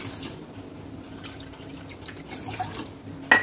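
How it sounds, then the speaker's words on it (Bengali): Water poured into a pot holding sugar, a soft, fairly quiet trickling and dripping splash that runs on with small gurgles and ends with a sharper clink of the vessel, for rasmalai syrup. "এর মধ্যে আমি 1 বাটির একটু কম চিনি দিয়ে তাতে 4-5 বাটির মতো জল দিয়ে নেব।"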